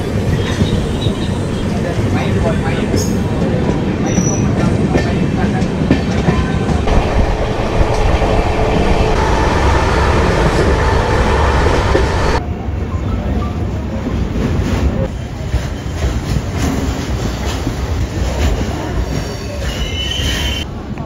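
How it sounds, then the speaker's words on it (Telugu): The Pinakini Superfast Express rumbles loudly past through a station with continuous clattering and screeching wheels, a steady roar from start to finish. "Vijayawada, Chennai, Pinakini super fast express అయితే వస్తుంది ఇప్పుడు."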